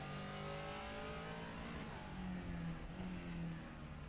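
A Caterham race car's engine accelerating in rFactor 2 at a faint, distant level, a buzzing engine note climbing in pitch through the gears against steady road noise.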